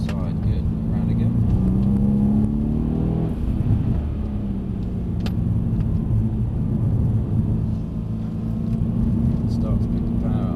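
A Mercedes-Benz C63 S V8 drones steadily and loudly from inside the car on a track, the engine note shifting as the throttle is picked up, while an instructor talks over it.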